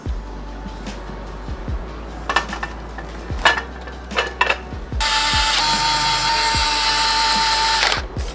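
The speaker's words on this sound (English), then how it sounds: "electric screwdriver, this one from Bosch" A Bosch electric screwdriver working on a gaming monitor, close and loud: several short whirring bursts with clicks and metallic clatter, then a long steady buzzing run of a few seconds before it stops.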